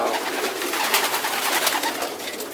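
Racing pigeons coo steadily inside a loft, a dense overlapping chorus of soft murmuring calls with a constant texture throughout.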